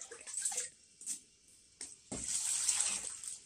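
Blanched kelp being rinsed in clean water, with intermittent splashing and pouring bursts that build into a steady close running-water wash near the end.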